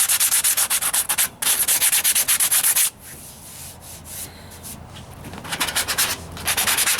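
A shaper file scrapes Bondo body filler on the driver's side wheel arch of a 1998 Ford Ranger, giving loud, steady rasping strokes in long continuous runs that break off briefly and then resume, close up with no talking.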